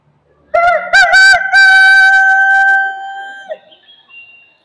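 A storyteller vocally imitates a rooster crowing: one loud, drawn-out cock-a-doodle-doo with a rising start and long held note, close and clear.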